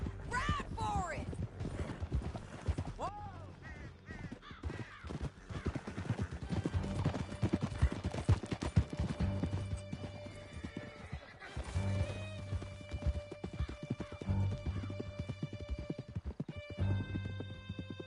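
Horses galloping and whinnying in the Red Dead video game, steady rapid hoofbeats with repeated neighs over a driving music score, close and loud, with occasional voices shouting over the ride.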